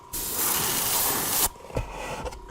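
White spray paint hisses from an aerosol can onto a shoe in one steady burst of about a second and a half, loud and broad, followed by faint handling clatter.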